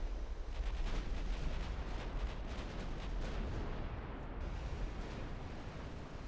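Naval battlecruiser gunfire in the Ultimate Admiral: Dreadnoughts battle game rolls as a continuous heavy rumble of distant booming salvos, dense and unbroken, with no voices.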